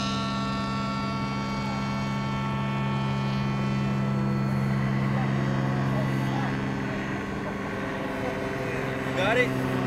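Aircraft engine drones steadily through a flyby under a clear sky, a loud sustained tonal hum that holds for the whole stretch and swells slightly near the end.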